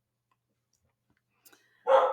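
A single short bark from a deaf special-needs dog comes at the very end after near silence, sharp and fairly close.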